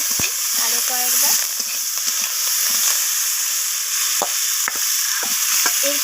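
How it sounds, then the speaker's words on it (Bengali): Green chillies and chopped coriander leaves are stirred with spices in a hot pan for an egg-and-brinjal curry: a steady oily sizzle broken by spatula scrapes and clicks against the pan. "নাড়াচাড়া করে এইভাবে কষিয়ে নিচ্ছি আরও কয়েকবার।"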